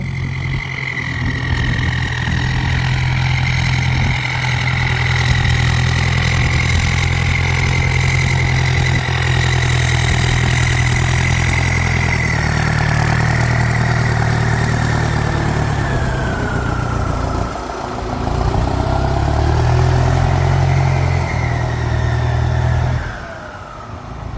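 A used 1968 Ford 5000 turbo tractor engine runs steadily at low revs, a loud, close diesel rumble with a wavering whine above it and a brief dip before it settles near the end.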